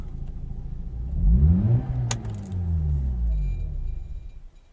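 A Mazda RX-8 rotary engine hums, rises briefly in pitch, then drops away as it is switched off. A deep rumble slides downward, a short click follows, and the engine fades into near silence with a faint tonal whine left behind.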